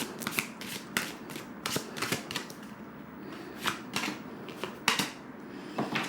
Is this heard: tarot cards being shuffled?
yes